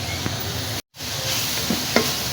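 Ingredients roast in a pan over a full flame for mini samosas, giving a steady close sizzle with occasional stirring scrapes and a brief dropout midway.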